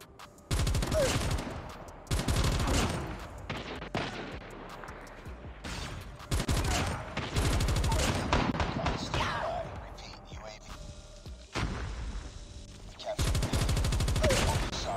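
Hip-fired gunfire from a gold S36 light machine gun in the mobile shooter Call of Duty Mobile: loud bursts of rapid automatic shots that keep coming back across the match, with a player talking over much of it.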